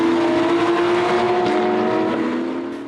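Porsche race cars on the Val de Vienne circuit during a Roscar R2-category race, engines roaring at high revs in a loud, sustained drone with a steady whine, one car passing close and fading slightly at the end.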